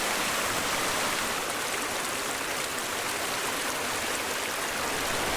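A trail stream at a hikers' water crossing in the Pacific Northwest rushes steadily, a dense, close, unbroken wash of flowing water with no voices.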